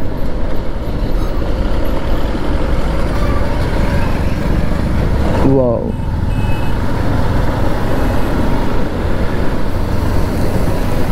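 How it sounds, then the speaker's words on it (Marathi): Heavy trucks and traffic rumble past on a busy industrial-area road in Talegaon Dabhade, loud and close throughout, with a brief reversing beep midway and a short exclamation from a voice. "trucks, traffics"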